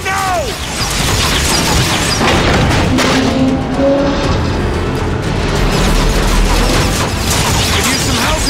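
Loud rocket explosions and bursts of gunfire in the Transformers: Fall of Cybertron video game, dense booming blasts and crashes with mechanical clatter throughout, under game music and effects.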